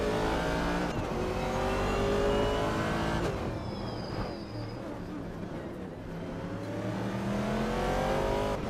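A 1970 Pontiac Firebird in a racing video game cruises with a loud, continuous engine drone that holds steady with slight pitch shifts throughout, other cars faintly mixed in.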